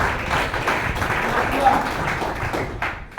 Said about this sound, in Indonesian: Tepuk tangan buat Tuhan dong.